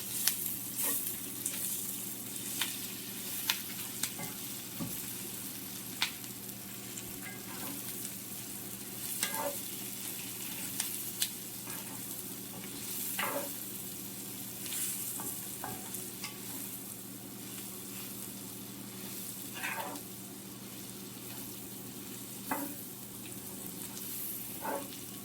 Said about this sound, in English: And we'll cook the masalas a little bit. And we'll mix it all up.